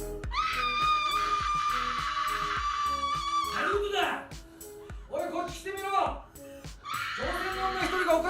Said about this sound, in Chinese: 外面传来凄厉的惨叫